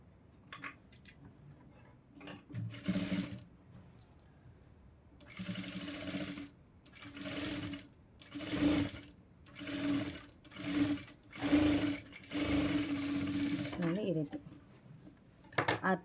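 Sewing machine stitching a children's lehenga blouse in short repeated bursts separated by quiet pauses, close and crisp.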